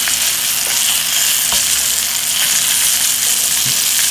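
Scallops searing in a hot pan that already holds other food produce a loud, continuous close-up sizzle with faint crackles, steady throughout and without talk.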